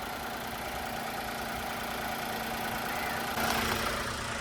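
A Nissan Magnite's 1000 cc petrol engine idles with a steady, even hum and a faint mechanical tick, close and continuous, no voices.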